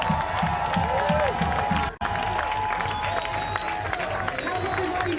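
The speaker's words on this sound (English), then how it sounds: "Please give them a huge round of applause and show them much respect as you continue moving and being loud." A protest crowd in Portland, Oregon, cheers and applauds in a steady, dense roar of clapping and shouting that surrounds the listener. It breaks off briefly partway through, then resumes at full strength.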